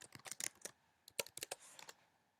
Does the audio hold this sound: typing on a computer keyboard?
yes